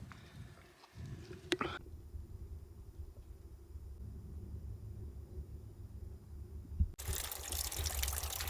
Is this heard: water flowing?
yes